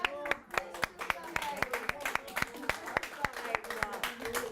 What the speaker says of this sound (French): Ouais, ben on s'applaudit.